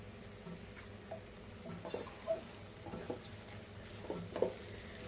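Cauliflower and pea curry with garam masala cooks in a pan, a faint low sizzle broken by occasional spoon stirs and light clinks against the metal, without speech.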